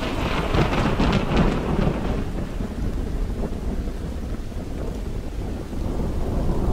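Thunderstorm with heavy steady rain and a low rumbling roll of thunder, loud and continuous throughout, with no voices.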